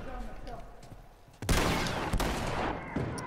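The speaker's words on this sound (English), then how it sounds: "oh, that's a shotgun" A loud shotgun blast in The Last of Us, a sudden booming crack followed by a sustained noisy burst of gunfire and a second sharp report, over a low muffled background that may carry a player's voice.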